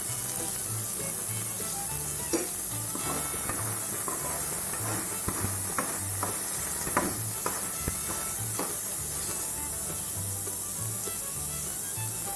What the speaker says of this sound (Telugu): ఒక నిమిషం వేగనిద్దామండి